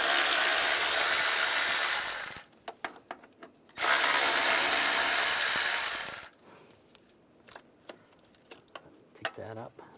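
Ratcheting 10mm socket wrench loosening two bracket bolts on a 2011-2018 Ram 1500 during valve cover removal, heard as two long close bursts of rapid clicking separated by brief pauses and small knocks.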